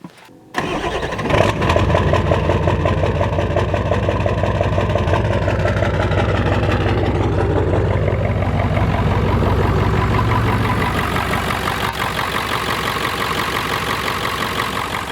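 A Ford F-250 pickup engine, damaged after a jump, cranks and catches, then settles into a steady, loud idle that runs on with a low, even rumble.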